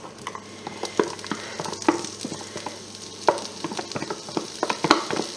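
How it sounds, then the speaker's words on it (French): Crushed garlic with onion frying in hot oil for a bolognese sauce, a close continuous sizzle broken by scraping stirs and sharp crackles, with no talking. "notre ail que j'ai écrasé. Voilà, j'attends que l'huile"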